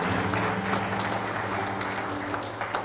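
A church congregation applauds, steady clapping from many hands in a reverberant hall, with a low sustained tone, likely an organ or keyboard, running underneath.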